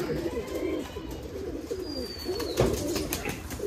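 Domestic racing pigeons in a pigeon loft, with low throaty cooing and soft warbling close by, a brief flutter of wings partway through, and no clear speech.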